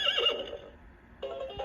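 A horse neigh from the 2007 LeapFrog Fridge Farm magnetic animal toy: a short electronic whinny played through a small speaker, clear and close, followed by a brief pause and a second burst of the toy's sound.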